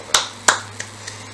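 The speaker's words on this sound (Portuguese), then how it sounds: "Palmas para o Paulinho do Roupa Nova." Hands clap for Paulinho of Roupa Nova: two sharp, close claps followed by two much fainter ones, sparse and uneven, with no voices.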